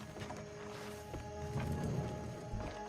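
Steady clip-clop of horse hooves trotting along in the video game Red Dead Redemption Online, a repeated rhythmic patter under a constant low rumble, fairly close.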